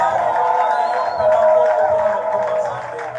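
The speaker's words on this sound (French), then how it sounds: "Manifestez vos cris, vos applaudissements pour la gloire." Congregation at a Sunday service shouting and cheering together in a loud, crowded swell of voices, with applause likely mixed into the excited roar.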